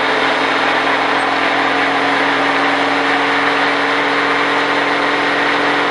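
A NASCAR race car engine held in third gear under light throttle, a loud, constant, dense drone heard from inside the car with no clear change in pitch.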